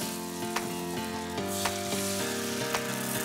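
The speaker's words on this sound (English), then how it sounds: "I like to brown the butter just a little bit for more flavor" Butter sizzles and fries steadily in a pan over low to medium heat for scrambled eggs, a constant close crackle with a faint tonal hum underneath and a few soft clicks, with no talking.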